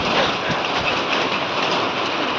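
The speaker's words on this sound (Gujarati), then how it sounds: "વરસાદ ફૂલ આવી ગયો છે" Heavy rain pours outdoors as a dense, steady hiss of drops that holds evenly throughout, close and fairly loud.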